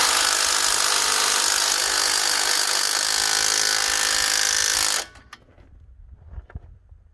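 A power tool runs hard and loud for about five seconds, a dense whirring grind as a stuck nut is loosened on an F150, then cuts off abruptly, leaving faint clinks and handling noises.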